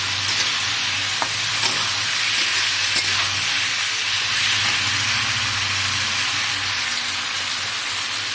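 Fried chicken and fried potatoes sauté in a pan with melted tomatoes, giving a steady, close, dense sizzle with occasional scraping stir sounds and no talk.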